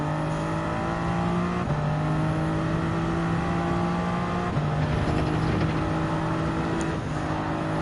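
A Porsche 911 RSR race car in Gran Turismo 7, during a Nations Cup race at Grand Valley Highway 1, holds a loud continuous engine drone that steps up in pitch through gear changes, steady throughout with no voices.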